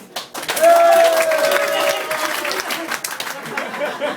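Audience applause in a French-language comic speech, a dense wash of clapping that swells quickly and holds steady for several seconds with a tone or voice running through it.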